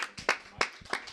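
A few people clapping for a game-show host, sparse uneven claps, about five distinct hits over a second, close and thin.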